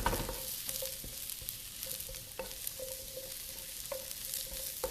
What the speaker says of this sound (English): I'm just gonna go ahead and soften these mushrooms.